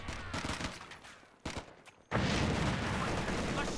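Sniper rifle shots in a Company of Heroes 2 one-versus-one match: sharp cracks and scattered battle reports early on, then a sudden loud, sustained wash of gunfire and explosions.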